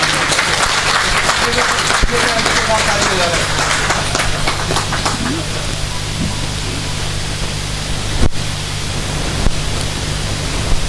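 Sustained, loud audience applause at a Delhi Police Mahasangh annual function at Maharaja Agrasen Park, a dense wash of clapping that carries on steadily throughout with crowd noise beneath it.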